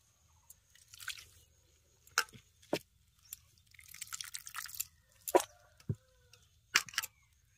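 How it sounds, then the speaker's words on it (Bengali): Grated potatoes washed by hand in water in a home kitchen, with soft wet squishes, drips and sloshing in scattered bursts, close and fairly quiet, with no talking. "এবার 2-3 বার জল পাল্টে পাল্টে প্রথমে আলুটাকে আমি ধুয়ে দেবো"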